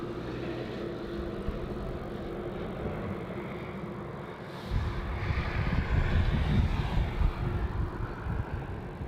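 A Singapore Airlines A380 taxiing slowly at Melbourne Airport toward runway 16, a low, steady jet engine rumble and whine heard from a distance that swells louder about halfway through, with no voices.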